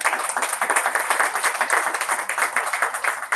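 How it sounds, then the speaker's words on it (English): Audience clapping for the team at a Toastmasters club anniversary meeting, a close, lively round of applause with a quick rhythmic pulse throughout. "A round of applause to the team."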